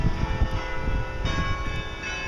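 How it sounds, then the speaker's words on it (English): Church bells ring repeatedly in a steady, pealing rhythm during a winter outing in Albany, loud and continuous with broad low rumble beneath the strikes, with no talking. "Wow, this bells go for 15 minutes."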